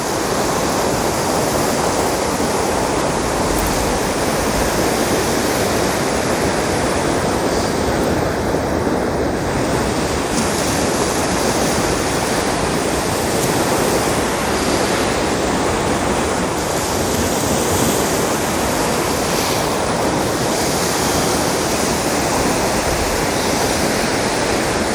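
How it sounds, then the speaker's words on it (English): Ocean waves crash and throw off spray in a steady, loud, close roar of surf, with wind buffeting the microphone throughout and no voices. "where we can see the spray come off those waves"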